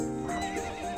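A horse neighs with a long, tonal whinny over the steady clip-clop of hooves in the video game To the Moon, close and clear throughout.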